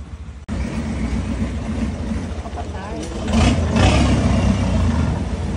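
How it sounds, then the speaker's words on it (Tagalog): Road traffic in Thailand rumbles past nearby, with engines and tyres swelling louder toward the end while people chatter over it. "Traffic naman."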